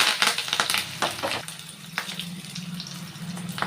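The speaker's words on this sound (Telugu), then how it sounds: "వెల్లుల్లి వేగిన తర్వాత పచ్చిమిర్చి వేసుకోవాలి జీలకర్ర కరివేపాకు వేసుకోవాలండి" Garlic, green chillies, cumin and curry leaves frying in hot oil, with crackling bursts and stirring clatter at first, then a steady close sizzle.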